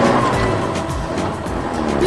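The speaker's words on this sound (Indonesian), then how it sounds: "Sekarang, lihat skid steer loader kuning itu bekerja keras membersihkan puing-puing" Yellow skid steer loader clearing rubble from a street during demolition work, a loud, steady engine roar mixed with harsh grinding and scraping that runs throughout without a break.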